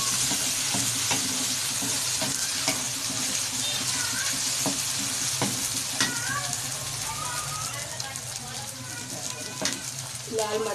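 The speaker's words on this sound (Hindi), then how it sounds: "आप इसमें डालेंगे लहसुन अदरक का पेस्ट। इसके साथ 5 मिनट भुनाई करेंगे।" Onion with garlic-ginger paste frying and being stirred in a pan, a steady close sizzle with repeated scraping clinks of a spoon, continuing without a break throughout.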